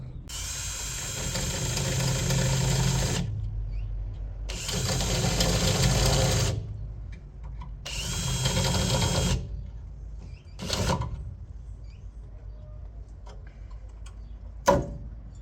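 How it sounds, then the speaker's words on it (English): Drill bit cutting out spot welds on a BMW E30 325i body shell during rust repair, heard as three long loud grinding bursts of about three seconds each, then shorter bursts and a sharp knock near the end, with no talking. "we had to drill out spot rivets here"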